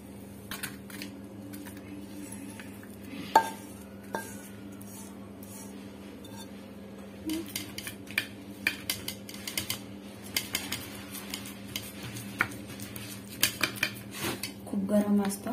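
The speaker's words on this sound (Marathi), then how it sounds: "खूप गरम असतं त्याच्यामुळे मी उलटण्याने याला पसरत आहे" Metal spatula scraping and tapping as hot coconut barfi mixture is spread across a greased tray, scattered clinks and scrapes growing busier toward the end over a steady low hum.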